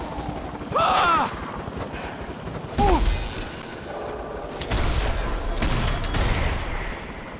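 Video game gunfire crackles in repeated bursts and volleys over a dense, loud battle din, with short tonal effects mixed in, during a siege on a keep.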